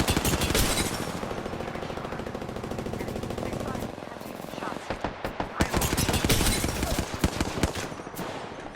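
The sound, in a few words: gunfire in a video game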